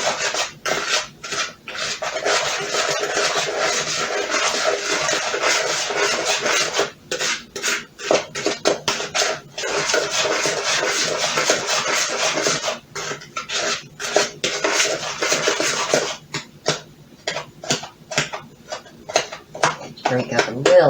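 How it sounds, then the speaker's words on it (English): A spoon scraping and rubbing steadily through eggplant parmesan ingredients and parsley in a slow cooker, a continuous rasping stir broken by brief pauses, with a voice talking over it. "Going to stir this all together."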